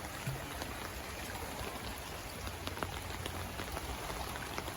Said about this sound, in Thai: น้ำไหลแรงมากครับวันนี้